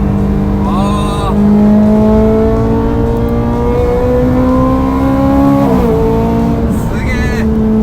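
Ferrari 430 Scuderia engine revving hard under acceleration, a loud, steadily climbing tone with a gear change near the end, while occupants talk over it.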